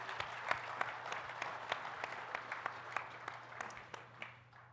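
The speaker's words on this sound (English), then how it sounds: "please give yourself a round of applause" Light, sparse applause from a small audience at the EVE Vegas 2019 closing ceremony, with scattered distinct claps rather than a dense roar, fairly quiet and fading toward the end.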